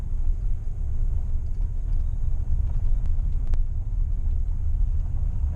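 A truck engine idles with a low, steady rumble, running high enough to creep into gear with the driver's foot off the brake and throttle, a faint tonal whine riding above the continuous droning hum.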